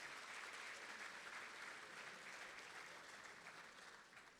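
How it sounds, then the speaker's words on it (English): Steady, fairly faint applause from an awards-ceremony audience honoring academic award winners, continuous clapping that slowly tapers toward the end. "Let's give one more big round of applause for all of our academic winners."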